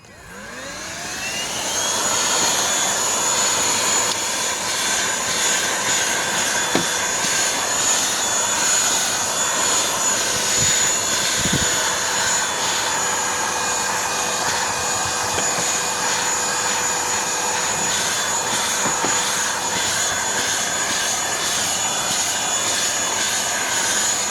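A GeeMo X4 handheld vacuum cleaner used for car cleaning starts with a rising whine, then holds a loud, steady high-pitched motor hum throughout with only small shifts in tone.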